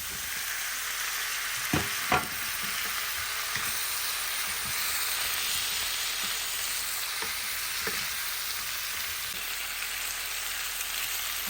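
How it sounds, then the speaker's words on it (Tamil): Prawns and drumstick pieces sauté in a pan, giving a steady soft sizzle with a few sharp clicks as a utensil stirs and scrapes them. "இறால் எல்லாம் நல்லா சிவந்து வர அளவுக்கு நல்லா வதக்கி எடுக்கணும்."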